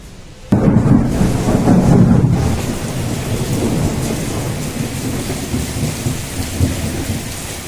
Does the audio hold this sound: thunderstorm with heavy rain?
yes